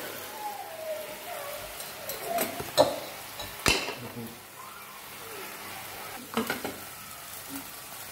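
Lardons sizzling softly in a pan while being stirred, a low steady crackle broken by a few sharp scrapes and clinks of a utensil against the pan, with a voice talking over it.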